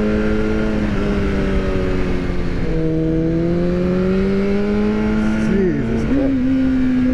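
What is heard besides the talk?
superbike engine while riding, Aprilia RSV4 or BMW HP4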